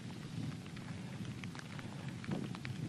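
Steady rainfall patters throughout, with a low rumbling undertone like distant thunder rolling beneath the hiss of the rain.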